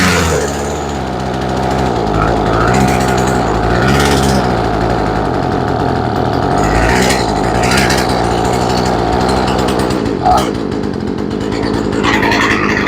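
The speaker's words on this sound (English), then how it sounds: "Now we'll turn the idle up." A chainsaw engine with a newly replaced carburetor runs continuously at a loud, close idle, its rough buzzing drone wavering slightly in pitch as the idle screw is adjusted.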